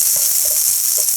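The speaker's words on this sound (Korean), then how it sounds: "중약불에 팬 올려 올리브유 2스푼 넣고 달구어지면 양파 넣고 갈색이 돌 때까지 볶아주고 색깔 나기 시작하면 양배추 넣고" Onion and cabbage hiss and crackle in olive oil in a pan over medium-low heat. The sizzle is steady, close and loud, with faint stirring taps, and nobody speaks.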